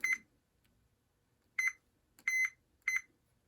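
A multimeter continuity tester beeps while checking a Fender Hot Rod Deluxe guitar amp, four short, clear tonal beeps, the last three close together, against a quiet background.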